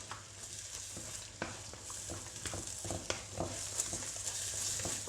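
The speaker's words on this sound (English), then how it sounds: "Give it a bit of a whisk so it starts cooking a bit." Beaten egg sizzles quietly in a pan for fried rice while it is whisked, with soft irregular scraping taps over a gentle frying hiss, close but faint.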